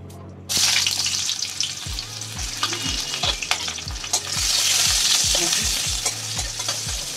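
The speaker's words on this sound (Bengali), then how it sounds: "এখন আমি তাহলে ভাজিটা শুরু করে দিচ্ছি।" Sweet potato bhaji sizzles loudly in a hot pan as it is stirred, with rhythmic scraping strokes repeating over a constant frying hiss.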